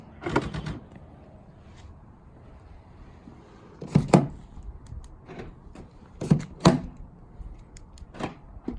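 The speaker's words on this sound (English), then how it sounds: "It looks like the back door lock is starting to go too." The failing rear door lock actuator on a Mercedes W203 C32 AMG whirs and clunks in repeated mechanical bursts, with a few clustered buzzing clacks spaced seconds apart, close up in a quiet setting.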